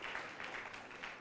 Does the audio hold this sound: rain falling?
no